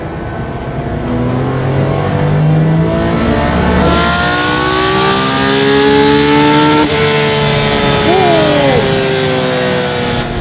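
A Singer DLS reimagined Porsche 911 engine screams upward through the gears toward 9,200 RPM, its pitch climbing in long sweeps with a sharp shift partway through.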